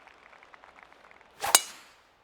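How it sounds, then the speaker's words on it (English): A golf driver tee shot on a long par 4 in the PGA 2K25 video game: one sharp, bright crack of club on ball, a single close impact that rings briefly after faint clicks, then quiet. "Oh my goodness, just smashed that drive."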